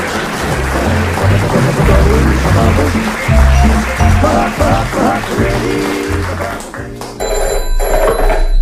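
A telephone rings amid a dense, loud mix of music and crowd noise, with applause-like texture throughout, on a comedy recording.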